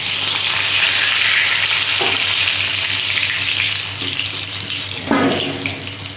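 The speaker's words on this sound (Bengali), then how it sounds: "বাকি মাছগুলো আমি এইভাবেই ভেজে নিচ্ছি।" Fish fry in a pan with a loud, continuous sizzle that tapers slightly toward the end, broken by a few soft clinks.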